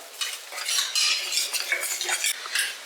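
Ground spice powders, chilli, fennel and pepper, are stirred in a pan for kappa biriyani, giving brisk bursts of scraping and rustling from a utensil with a light sizzle beneath, no voices.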